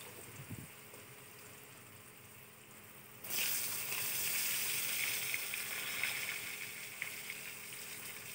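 Long-cut potato strips drop into hot oil with cumin seeds, and a sudden loud, steady sizzle bursts in after a few seconds of quiet and carries on to the end.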